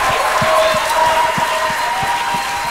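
Steady applause and cheering from a church congregation acclaiming God, a loud continuous wash of clapping with voices mixed in.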